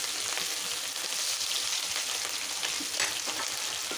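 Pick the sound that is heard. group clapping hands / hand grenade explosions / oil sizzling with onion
oil sizzling with onion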